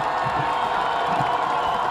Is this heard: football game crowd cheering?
yes